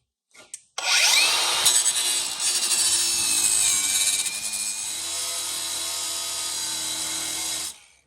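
A cutoff wheel grinds through the rusted, seized stud of a sway bar end link on a 2009–2015 Honda Pilot, a loud, close, continuous high-pitched screech lasting several seconds before stopping abruptly.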